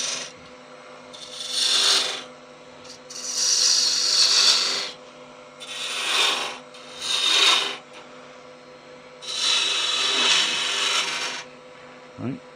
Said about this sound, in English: Now we'll grab a detail gouge and get me nice transitions going.